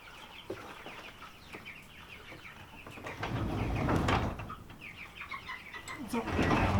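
Chickens cluck and squawk inside a barn among the rafters, with scattered sharp calls close by, wing and rustling noise, and people talking quietly underneath.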